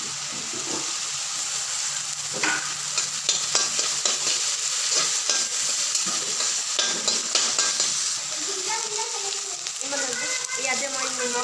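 Curry leaves and other leaves fry in a hot pan with a steady crackling sizzle, broken by stirring scrapes and clatter. A brief rush of running water joins near the end.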